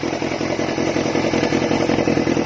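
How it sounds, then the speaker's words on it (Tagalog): A Yamaha FZR400 motorcycle engine idles close by with a steady, rapid chugging putter and slight mechanical clatter, unbroken throughout. "pakinggan niya yung makina kung okay pa ba"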